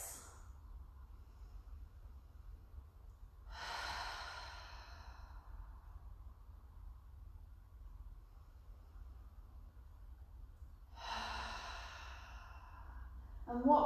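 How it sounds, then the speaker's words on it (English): A person lying down during a yoga session for lower back pain takes slow, deep breaths, two long audible exhales separated by quiet pauses, close and soft. "take a few deep breaths."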